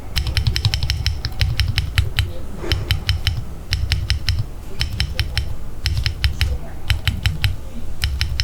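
Stock enter key with unmodded, unlooped stabilizers is typed repeatedly in quick bursts, giving sharp, close clacks with low thock over a steady background rumble and no talk.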